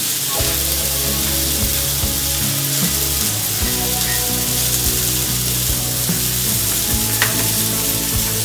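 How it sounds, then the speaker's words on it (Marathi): Bombil fish fry in oil on a hot tawa with a loud, continuous sizzle and crackle, accompanied by scraping and stirring sounds from a spatula against the metal pan, with no talk. "झणझणी त्याची आता आपण तवा फ्राय करतो"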